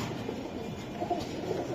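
Soft, low cooing from a pair of high-flying pigeons for sale among racing and Budapest pigeon stock, a few faint coos over steady background noise.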